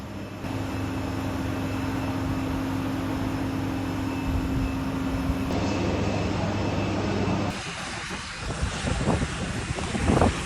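Airplane engine noise at a small city airport, a loud, steady roar with a tonal hum that shifts partway through, then turns gustier and rougher near the end.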